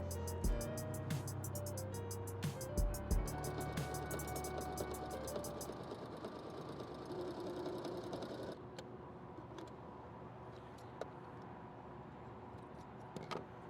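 A sewing machine stitching a pocket onto a pair of shorts, its rapid mechanical whirring running steadily for several seconds before stopping, followed by faint handling clicks of fabric and tools.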